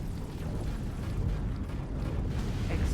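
A sustained, loud rumbling blast fills The Vigor game scene, a dense low roar that holds steady throughout without any speech.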